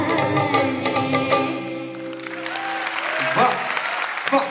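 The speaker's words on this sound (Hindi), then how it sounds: "दिल से बजने वाली तालियों की आवाज ही कुछ अलग है" An audience claps steadily at a qawwali performance, a dense, sustained applause that slowly fades, with faint voices and music trailing underneath.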